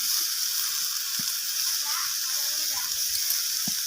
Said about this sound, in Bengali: তো এখানে আলু বেগুন সব কিছু ভাজা ভাজা হয়ে গেছে।